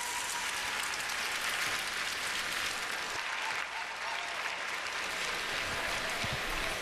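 An arena crowd at the 2016 World Figure Skating Championships in Boston applauds after a pairs short program, sustained, even clapping throughout that fills the space.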